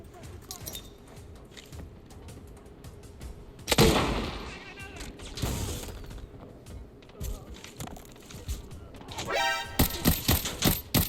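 Gunfire in the Arena Breakout shooter arrives as several sharp shots at irregular intervals. One heavy blast stands out, and a rapid burst of shots comes near the end, under ongoing talk between players.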